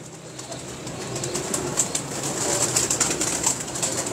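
Pigeons in an ustad's loft in Kasur coo steadily, with low soft calls rolling close by, layered over a constant high hiss and faint flutter, with no voices.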